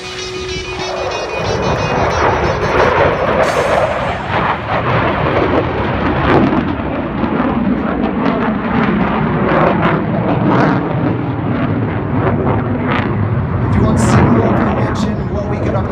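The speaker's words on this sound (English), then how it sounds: "2019 Typhoon display at Bournemouth Air Festival." A Eurofighter Typhoon jet roars through its flying display at the 2019 Bournemouth Air Festival, with a loud, sustained, rumbling engine blast that swells and holds for the whole stretch.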